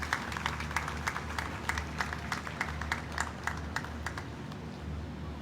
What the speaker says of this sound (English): a warm round of applause for all of our PhD graduates